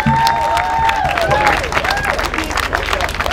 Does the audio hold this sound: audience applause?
yes